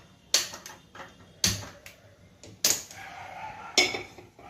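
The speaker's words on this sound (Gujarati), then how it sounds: "હવે માલપુઆ તળવા માટે આપણે કઢાઈ મૂકશું।" A kadhai is set on a gas stove for frying malpua, producing four sharp metallic clanks spaced about a second apart, each ringing briefly before fading, in a quiet kitchen with no speech.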